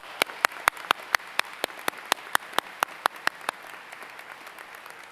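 Clapping at a Central Ohio Technical College summer commencement, sharp, evenly spaced claps that start loud and fade somewhat toward the end, with little else in the background.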